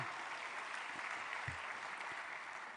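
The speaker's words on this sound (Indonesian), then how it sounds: "Tepuk tangan sekali lagi buat kita semua" An audience at a live government event for a mass KUR loan signing gives a round of applause, a soft, continuous spread of many hands clapping heard from a distance.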